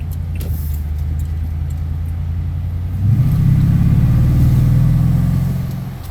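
Toyota Tundra pickup with its exhaust pipes off, accelerating hard: a steady low engine drone swells into a louder, deeper roar about halfway through, holds, then eases off slightly at the end, with no talk.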